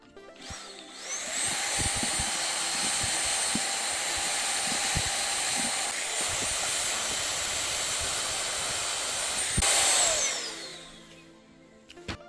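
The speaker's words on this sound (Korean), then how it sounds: "먼저 청소기를 이용해서 이 부분을 청소할 겁니다." A vacuum cleaner starts up, whines steadily for about eight seconds while cleaning the dust sensor of a Balmuda air purifier, rises briefly in pitch, then winds down, close and loud with faint handling knocks.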